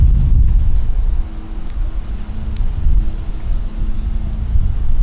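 Strong gusts of wind buffet an outdoor microphone with a loud, continuous low rumble, rising and falling in waves.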